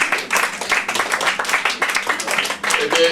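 An audience claps for someone at a gathering, a dense, fairly loud run of many hands clapping that holds steady from start to finish.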